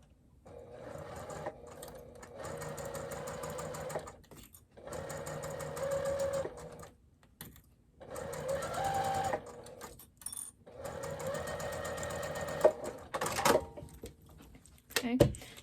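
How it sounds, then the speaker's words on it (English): A home sewing machine basting fabric for a crossbody bag, running in several bursts of rapid stitching separated by short pauses, close and clear, with a few small clicks and handling noises between runs. "we're going to baste that in place using an 1/8 of an inch seam allowance"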